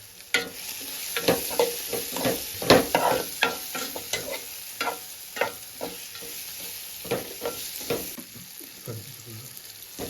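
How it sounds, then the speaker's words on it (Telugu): Repeated scraping and clinking of a spoon stirring vermicelli upma in a frying pan, irregular strokes over a steady background sizzle, close and fairly loud. "ఇప్పుడు బాగా కలపాలండి"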